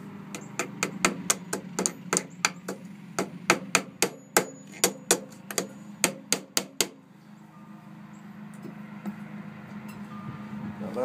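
A small magnetic hammer strikes in a quick run of sharp, close metallic taps, around twenty blows in uneven rhythm, then stops, leaving a low steady background.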